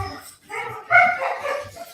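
Dogs bark in a few short, loud bursts close by, with yips and whimpers mixed in, while a voice talks alongside them.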